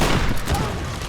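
A dynamite blast in the Tomb Raider video game, a short loud booming burst with crackling debris, close and dense, fading quickly without any speech.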